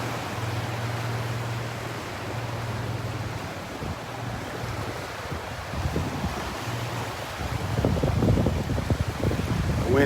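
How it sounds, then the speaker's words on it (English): Wind blowing steadily across a beach in North Naples, Florida, a broad continuous rush that swells louder toward the end, with a faint low hum in the background. "Wind coming out of the north this morning."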